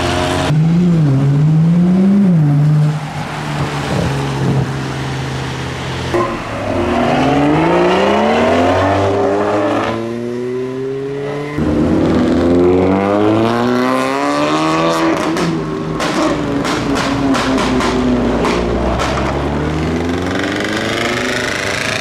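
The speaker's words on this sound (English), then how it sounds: "we have the lifted Mark 4 Supra with the diesel tank engine" A lifted Mark 4 Toyota Supra with a diesel engine revs and accelerates repeatedly while leaving a car show, pitch rising through gear changes, loud and close, with a rough droning tone throughout.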